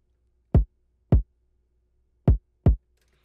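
FL Studio drum beat without soft clipping: four deep, punchy kick hits in an uneven pattern, close and dry, with silence between them.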